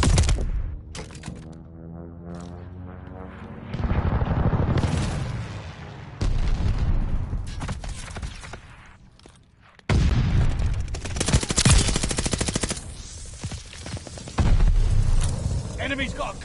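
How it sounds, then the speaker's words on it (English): Strafing aircraft gunfire and explosions fill a Call of Duty: Vanguard battle, with loud bursts and booms arriving in several waves and voices shouting over the combat. "Hostiles are strafing us!"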